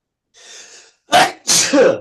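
A person sneezes loudly twice in quick succession, close to the microphone, after a brief faint breathy sound.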